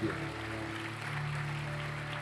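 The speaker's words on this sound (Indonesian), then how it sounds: "Tepuk tangan saudara buat Allah." A church congregation applauds during a sermon, a steady spread of clapping over a sustained low organ or keyboard tone, with no one speaking.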